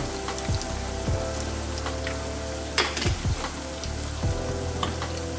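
Tuna marsala sauce reducing in a pan with oregano, a loud, close, continuous sizzle with scattered spatter pops and a few stirring scrapes, no voices.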